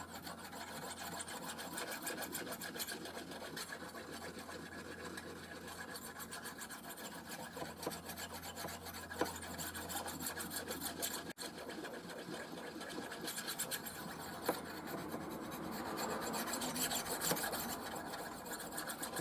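A blade is sharpened on a banded jasper whetstone, giving a steady close rasping scrape that runs continuously with brief pauses and no talk.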